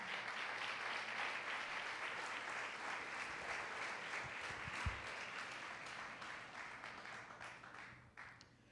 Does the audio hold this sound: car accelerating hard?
no